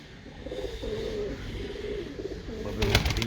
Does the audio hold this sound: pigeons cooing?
yes